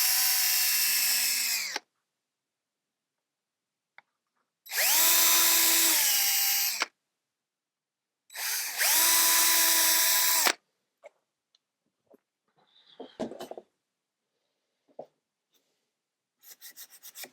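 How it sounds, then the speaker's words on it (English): An electric drill whirs in three separate bursts of about two seconds each, drilling small holes in a model dog sled, close and loud, with quiet clicks and handling noises afterward. "And now I'm going to need to drill some little holes."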